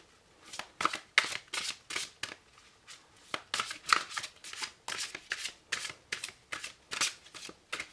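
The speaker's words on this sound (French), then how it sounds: "Alors on va tirer une carte. Les cartes sont de bonne qualité." Oracle cards being shuffled by hand, a quick run of crisp riffling flutters repeating in an even rhythm, close and clear with no talk.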